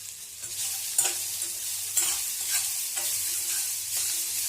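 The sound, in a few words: ginger and garlic sautéing in a pan for misal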